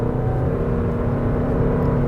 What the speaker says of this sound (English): It's an interesting noise for an SUV to make, isn't it, when you put your foot down?